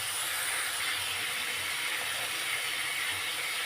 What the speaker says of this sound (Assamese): অকণমান ভাজিম বিলাহীখিনি।